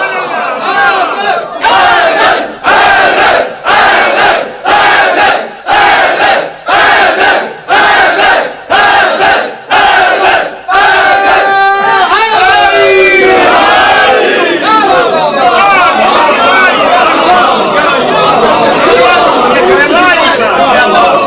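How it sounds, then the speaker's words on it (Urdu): At a Jashan Wiladat Imam Hussain gathering for 3 Shaban, a large crowd roars "Haidari" together with raised arms: a string of loud, rhythmic collective shouts, then sustained cheering and chatter. "مل کے دونوں بازو بلند کر کے حیدری"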